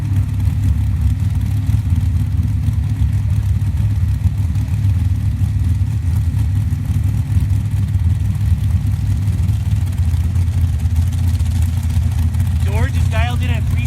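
Dragster engines at a season-opening Top Eliminator qualifying drag race, one car in the far lane, produce a loud, continuous low rumble that holds steady and close throughout, with no breaks.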